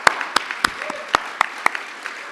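An audience at an HR achievement awards event claps in a loose, sparse way. The claps are sharp, scattered and separate rather than a dense roar, and they thin out over about two seconds with no talking.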